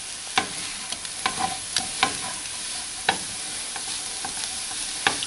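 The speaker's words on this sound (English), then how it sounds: "use the tongs, if you've got them, to kind of squeeze up any grease that's in the bottom of the pan into the potatoes" Potatoes fry in a greasy skillet while tongs scrape and stir them, giving a steady sizzle broken by sharp metallic clicks and clacks at uneven intervals.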